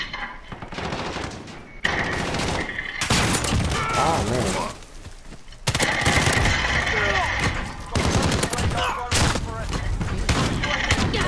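Rapid bursts of video game gunfire and machine-gun fire crackle loudly through the whole stretch, with a brief voice speaking over the shooting.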